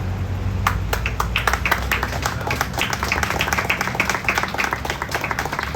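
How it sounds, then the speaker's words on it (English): Applause from an audience for children who have just read the Declaration of Independence at a July 4th event, dense steady clapping filling the room at an even level for several seconds. "We can give them another round of applause for their excellent reading"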